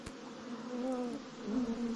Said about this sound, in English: That buzzing. Are those bees?